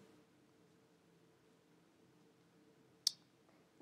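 A single sharp computer mouse click after a few seconds of quiet room hiss, followed by a second faint click at the very end.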